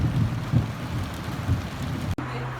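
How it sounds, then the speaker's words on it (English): Steady rain with low rumbling during a storm, heard from inside a leak-free vehicle or shelter, continuous and fairly loud, with a brief dropout and a low hum near the end. "as you can see, there is a storm"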